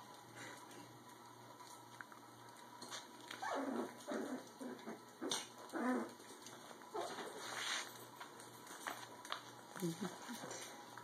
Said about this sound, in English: I have two puppies playing right here.